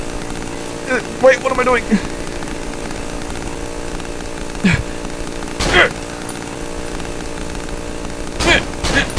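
Chainsaw in the horror video game Cry of Fear revs in several short, loud bursts over a droning game soundtrack, with someone talking over it.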